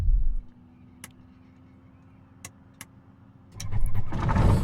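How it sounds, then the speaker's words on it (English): A tailwheel airplane's engine in Microsoft Flight Simulator 2020 starts up: a short burst of noise, a quiet hum with a few sharp clicks, then the engine catches and settles into a loud, steady running roar. "Let's get this airplane started, and we'll do some taxiing."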